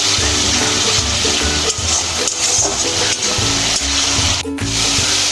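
Tomato paste and onion frying together in mustard oil for a prawn curry: a loud, steady, close-up sizzle that stays constant throughout, with occasional soft scrapes of a spatula.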